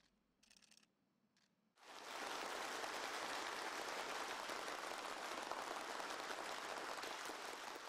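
Warm, sustained applause erupts from a large gathering as Xi Jinping meets air force advanced units and model representatives. It starts abruptly after a quiet, faintly busy moment and stays loud and dense to the end.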